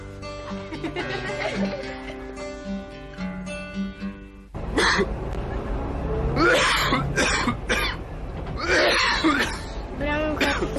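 Coughing in a cough medicine advert, several harsh throaty coughs and throat clearings mixed with voices and background music.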